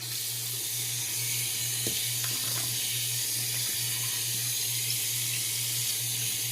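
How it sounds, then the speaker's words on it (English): A bathroom tap runs steadily while a face is wetted and a shaving brush is rinsed at the sink, a constant close splashing flow with a low hum beneath and a few small knocks. "I'm going to start wetting my face and rinsing my brush and getting ready to shave now"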